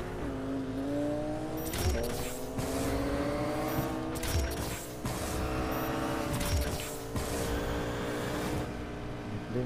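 Race car engines in the Need for Speed Payback video game drone steadily at the start of a race, with repeated revving surges and bursts of acceleration that stay loud throughout.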